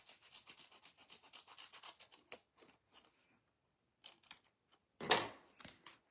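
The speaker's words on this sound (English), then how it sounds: "So I'm going to cut a strip." Scissors cutting a strip of material, quiet close snips and rasping strokes in a rapid series, then pauses and a few louder cuts near the end.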